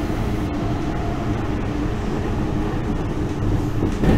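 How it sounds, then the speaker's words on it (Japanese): A limited express train roars through a station at speed, a loud, steady rumble with rattling and rushing air that swells slightly toward the end. "この特急湘南2号はそんなことをお構いなしに通過していきます"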